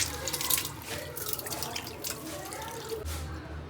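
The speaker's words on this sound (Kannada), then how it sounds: "ಈ ರೆಡಿ ಮಾಡ್ಕೊಂಡಿರೋದನ್ನೆಲ್ಲ ವಾಶ್ ಮಾಡ್ಕೊಬಿಡೋಣ" Running tap water splashes steadily into a sink as prepared ingredients for homemade churmuri are rinsed, a close, continuous trickle and patter throughout.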